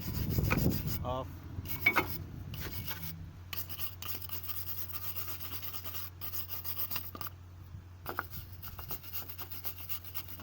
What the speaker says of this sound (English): So I'm using a big wire metal to get the most of the rust